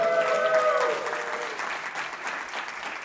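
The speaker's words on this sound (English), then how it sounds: "so please clap." Conference audience clapping at the start of a first-time speaker's talk, a broad even patter of many hands with a brief talking voice over the opening, fading slightly as it continues.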